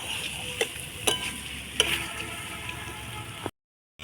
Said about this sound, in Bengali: বন্ধু মাছগুলো ভালো করে কষে নিচ্ছি।